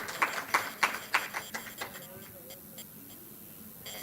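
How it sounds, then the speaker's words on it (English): Brief conference audience applause, a short run of sharp claps that fades out after a couple of seconds, leaving a quiet hall with faint murmuring. "Please welcome her on stage with a big round of applause."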